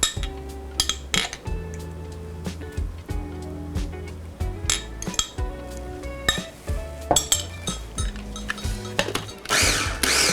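A food processor pulsing shawarma garlic sauce with lemon juice, loud whirring bursts broken by clattering and clinking of the bowl and blade, start-stop rhythm throughout.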